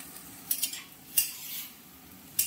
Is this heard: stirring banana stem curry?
yes